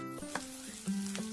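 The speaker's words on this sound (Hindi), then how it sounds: "हमारा प्याज अच्छी तरह से फ्राई हो चुका है।" Onions sizzling steadily in a hot pan while being fried for an egg curry, a close, continuous frying hiss with a couple of brief stirring bumps.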